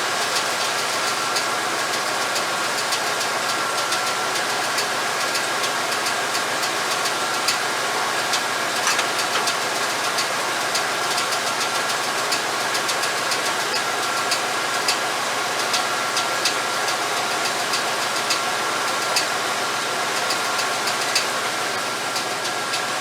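A 1989 Chevrolet GM TBI engine idles steadily up close, a fast, even ticking running through its rumble the whole time.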